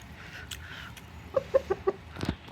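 A rooster and hens in a village yard, soft clucking with a short series of four or five louder, close clucks in quick succession over low background noise.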